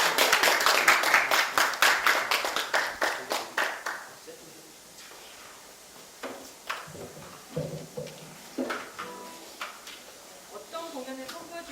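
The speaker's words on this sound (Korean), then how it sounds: "뜨거운 박수로 맞아주시길 부탁드립니다." An audience claps to welcome performers at a community media forum opening, with a burst of applause that fades after a few seconds, followed by scattered taps and shuffling.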